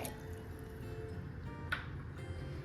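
Soaked red chillies and garlic are tipped into a pot together with their soaking water for a Mumbai bhel chutney, giving faint wet drips and squishy liquid sounds over a low background.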